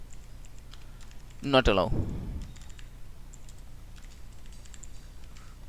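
Quiet, scattered clicks of someone typing JavaScript code on a computer keyboard, with a brief spoken phrase partway through.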